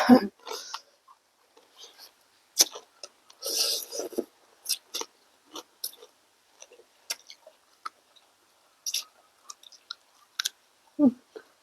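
Spicy Thai squid salad with crab sauce is chewed close to the mic in irregular crunchy, wet bites, with pauses between them and brief voices now and then.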